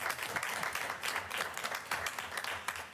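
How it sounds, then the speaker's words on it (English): A board meeting audience gives a round of applause, steady dense clapping with bursts of sharper hand claps sustained throughout at moderate level. "Let's give Lavinia Draper a big round of applause."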